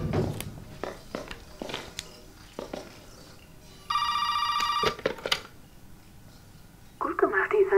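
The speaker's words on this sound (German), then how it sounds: "Das Telefon klingelt wieder." A telephone rings inside the horror game Resident Evil 7, played in VR on a PS4 Pro; a steady electronic ring sits mid-clip, with a second burst near the end, amid footsteps, a door and a voice talking.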